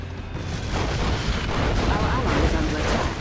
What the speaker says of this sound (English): Let's observe the bombing first.